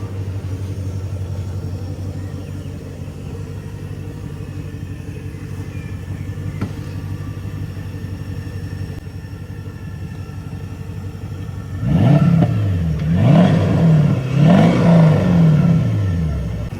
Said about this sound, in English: have a walk around the back and have a listen to the exhaust